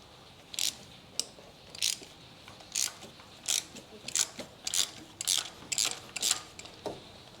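A ratchet with a plug socket and extension works on a spark plug in a 2010 Mazda 2 1.5 petrol engine, giving a series of about fourteen close, crisp clicking bursts in an uneven rhythm.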